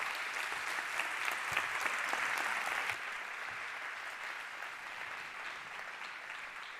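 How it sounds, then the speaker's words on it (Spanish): Conference audience in a packed amphitheatre applauds a speaker on stage, a loud, sustained burst of clapping that swells early and then thins slightly toward the end, with no talking over it. "a Antonio de la Rosa, para quien pide un aplauso fuerte que estamos deseando escucharle."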